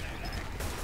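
Gunfire in the video game Team Fortress 2 comes as a dense, loud burst of overlapping shots for about a second, with game noise and a voice mixed underneath.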